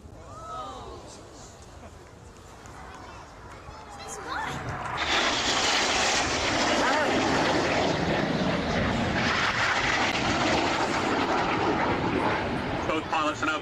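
Red Arrows jets flying a display at the Biggin Hill airshow, starting with faint crowd noise and a distant hum before a loud roaring jet pass swells in and holds, with a voice talking underneath.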